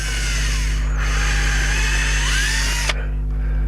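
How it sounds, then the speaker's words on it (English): A power drill whirs steadily and close up for a few seconds, boring a pilot hole down through a pot into timber, its pitch shifting slightly, then cuts off abruptly with a small click. "I'm just going to drill straight down through the pot, a little pilot hole"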